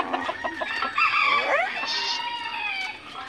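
A hen kept in a cage in a rural Philippine yard clucks and squawks in a run of close, loud calls, ending in a drawn-out cackle.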